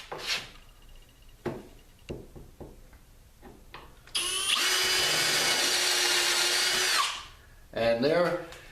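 A barrel trimmer grinds against the end of a brass tube in a steady whirring buzz lasting about three seconds, preceded by scattered clicks and handling taps and followed by a short tonal whine as it winds down.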